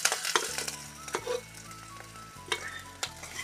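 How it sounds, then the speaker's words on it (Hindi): Onions sizzling in hot oil in a kadhai, a continuous close frying hiss broken by a few sharp stirring clatters and scrapes. "प्याज को एक मिनट तक हम भून लेंगे।"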